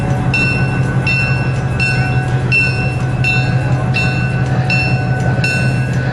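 Milwaukee Road 760, a 1944 Fairbanks-Morse demonstrator diesel locomotive, rumbles loudly at a parade with a steady low engine drone and a repeating high metallic ringing, likely its bell, struck at regular intervals.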